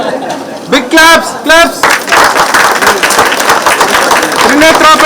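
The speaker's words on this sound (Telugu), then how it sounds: "big claps" An audience claps at a pyramid anniversary celebration in Puttur, loud close clapping that builds into steady applause, with voices and chatter mixed in.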